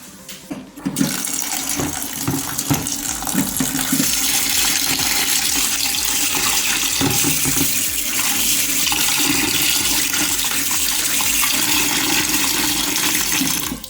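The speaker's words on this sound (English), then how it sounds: "So let's go ahead and wash our cabbage." Tap water runs steadily and loudly over cabbage being washed in a sink for coleslaw, a continuous close splashing rush with small clatters, no talking.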